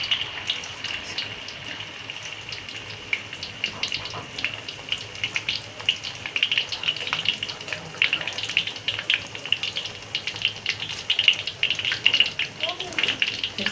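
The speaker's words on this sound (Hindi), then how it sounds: "ऐसे हमने इसको लेप कर लिया और हम इसको फ्राई करेंगे" Batter-coated potato naan frying in hot oil, a steady crackling sizzle with bubbling pops throughout, moderately loud and close, while someone speaks over it.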